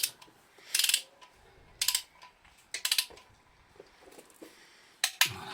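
A torque wrench tightens bolts on an Audi ASZ diesel engine: several separate bursts of quick ratcheting clicks, close and crisp, with short quiet gaps between them.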